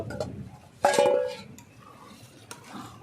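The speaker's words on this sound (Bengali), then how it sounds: "ঢাকনা তুলে দেব" A pot lid lifted off a pan of cooking banana and poppy seed curry, with one bright metallic clink followed by a short ringing scrape, then a quieter tap, close by in a kitchen.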